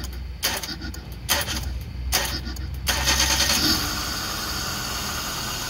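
A 2005 Hyundai Verna that had been clicking and failing to start is cranked in a few short bursts before the engine catches and settles into a steady idle, close and fairly loud.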